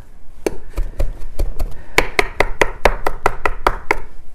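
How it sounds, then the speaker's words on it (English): A knife chops fresh cilantro on a cutting board in a brisk steady rhythm, about fifteen sharp close knocks over several seconds that grow quicker toward the end, with no talking. "And then chop it up."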